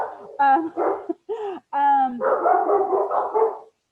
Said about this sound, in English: I'm afraid my dog's about to start barking because my food is here.